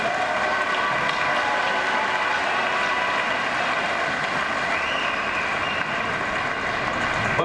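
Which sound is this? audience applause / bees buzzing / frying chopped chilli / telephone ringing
audience applause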